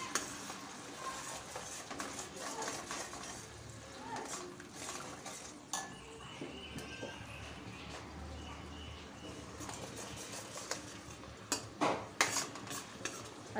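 Onion, tomato and red chili paste is stirred in a pan for a chicken curry, with a spoon scraping and clinking against metal in irregular strokes under a faint sizzle, quiet and close.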